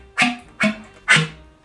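A flute is played with ram-tongue percussive articulation, producing three sharp, separate pops at an even, unhurried pace, close and clear against near silence.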